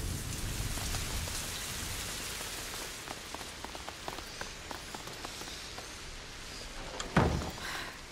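Steady rain falls in the medieval game A Plague Tale: Innocence, a hissing downpour with distinct drops pattering on nearby surfaces, broken late by a sudden louder knock or thud.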